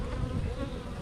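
Honey bees buzz at a long horizontal Langstroth hive during an inspection, a dense, steady low drone of many wings, close and even without pauses.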